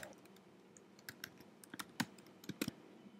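Keystrokes on a computer keyboard arrive as scattered, quiet clicks, a few isolated taps, then a tighter cluster of sharper presses near the end, over a soft room hush.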